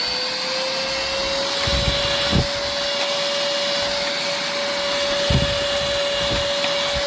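A SERVOMASTER cordless handheld battery car vacuum cleaner runs steadily with a constant high motor whine and airflow hiss, with a few brief dips in tone as it sucks.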